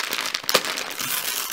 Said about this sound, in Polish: ja postanowiłam, że otworzę kalendarze adwentowe